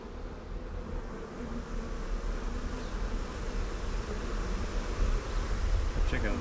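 A bee caught in a spider web gives off a steady, close buzz that persists without a break, with no talking.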